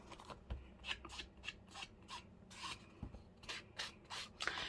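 Scissors snip through paper card to make junk journal picture frame cards, giving a quick run of close, crisp cuts in an uneven rhythm with no talking.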